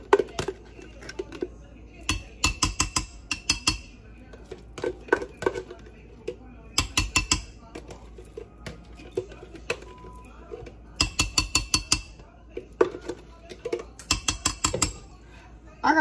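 A metal spoon scraping and clinking inside a nearly empty mayonnaise jar while making a hair mask, in bursts of sharp rapid scrapes and taps with pauses between them.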